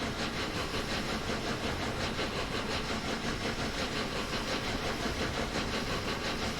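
Steady, dense rumble and hiss of a B17/6 steam locomotive hauling a long train through a tunnel in the TS2021 train simulator, a continuous enclosed roar with rhythmic chuffing texture and no talk.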